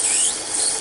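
A wooden penguin ornament spins on a lathe while being sanded, giving a steady high-pitched hiss and squeal close by with no talk.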